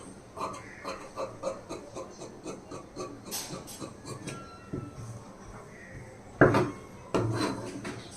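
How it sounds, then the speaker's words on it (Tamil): Scissors snip through blouse fabric, cutting out the front piece at a tailor's table: a steady series of short crisp cuts, fairly close, followed by a couple of louder rustles and handling noises near the end. "இப்போ நம்ம ஃப்ரண்ட் கட் பண்ணி எடுத்துடலாம்"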